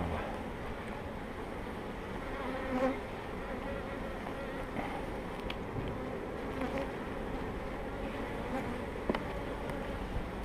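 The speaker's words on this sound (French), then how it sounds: "donc là vous voyez une très très grosse population d'abeilles" A dense mass of honeybees drones continuously during a spring hive inspection, a steady close buzzing with individual bees flaring louder now and then, no talk.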